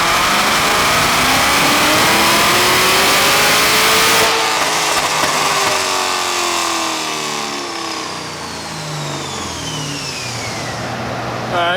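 A car engine fitted with a Kong 2650 supercharger revs hard through a dyno pull, with a loud rising wail and supercharger whine that cut off into falling, fading tones as it winds down, with no talk.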